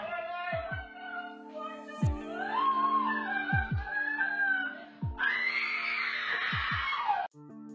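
Baby sloth gives repeated high, wavering screams, loud and near, in drawn-out cries broken by short pauses, with a pulsing low throb beneath.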